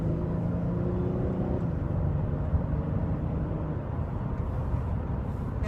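A 2004 Kia Amanti's engine pulls at about half throttle while the car accelerates toward the speed limit, a steady low drone heard from inside the cabin, with no talking.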